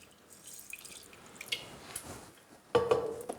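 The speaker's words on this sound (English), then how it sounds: "And now I need to add water because the pasta is going to soak up all those juices" Water is added to a pot of Cypriot yuvetsi with orzo pasta: soft scattered drips and trickles, then a brief louder splash of pouring near the end, close and quiet.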